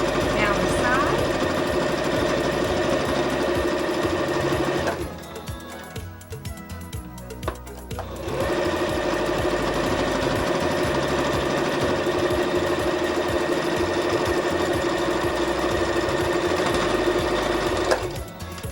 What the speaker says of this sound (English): Okay, we're going to sew it. I'm almost finished with it. Down the side.